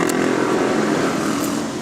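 A motorcycle passes close by, its loud, rough engine drone filling the whole moment before fading slightly at the end.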